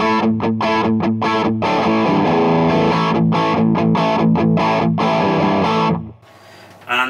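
Electric guitar through a low-gain Clinch FX EP-Pre drive pedal plays a chordal riff, slightly gritty and warm with a light reverb tail as the notes ring out and fade.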